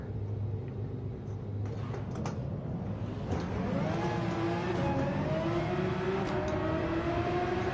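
A fully modified Pagani Zonda in Gran Turismo 7 rumbles and revs, its engine note climbing steadily through acceleration, loud and close with a constant background whir.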